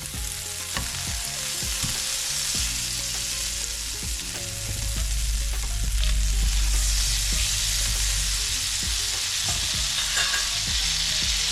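Butter sizzles and crackles steadily in a hot frying pan, the frying hiss growing louder partway through, with utensil clinks and stirring; nobody speaks.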